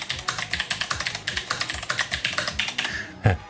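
Someone types quickly on the glossy keys of a Commodore C64x keyboard, giving a close, crisp, rapid run of clicks with a couple of heavier thumps at the end and no talking.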